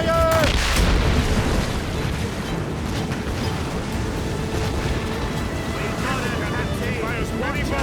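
Ship cannons fire in a naval battle in Assassin's Creed Rogue, with heavy booming blasts over constant rushing sea and wind, loud and dense throughout, and shouting voices mixed in.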